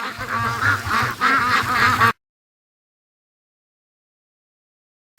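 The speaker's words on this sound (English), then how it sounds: "Look at this serious duck train up the lake" Ducks on a lake quack and honk close by in a short burst of overlapping calls, then cut off into silence.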